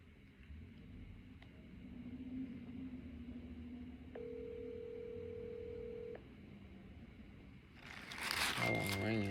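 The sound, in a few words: telephone ringing tone on a call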